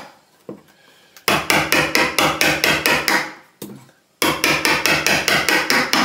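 Hammer striking a chisel to cut into a wall for protecting wires in a homestead building, sharp close regular blows in two runs of about a dozen each, with a brief pause between.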